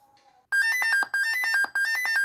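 A laptop alert warning of a failed cooling fan: after a faint tone, a loud electronic chime pattern of rapid bright pulses sounds in three repeating bursts with brief gaps, clear and close.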